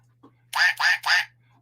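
A duck gives three loud, close quacks in quick succession after a faint short sound, set against a quiet low hum.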